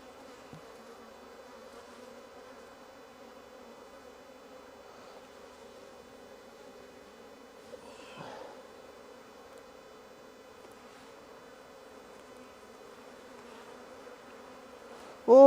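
Honeybees buzzing around an open hive in the evening, a steady low drone of many insects close by, fairly quiet, with a few individual bees passing near.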